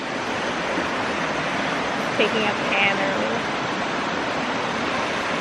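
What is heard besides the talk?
flowing stream water on a Kaua'i hike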